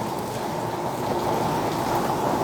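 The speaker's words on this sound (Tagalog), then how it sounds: "Grabe po talaga ang lakas ng ulan. Pati hangin." Heavy rain driven by wind pours down steadily outdoors on a cold rainy day, a dense, continuous hiss and roar holding at a constant loud level with no voices.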